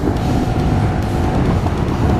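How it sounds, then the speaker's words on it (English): A 2016 Yamaha R1 motorcycle with a cross-plane crankshaft engine runs as a loud, steady, rough mechanical roar. The sound is close and unbroken, with no talk over it. "That cross-plane crankshaft engine in this bike makes a sound like no other"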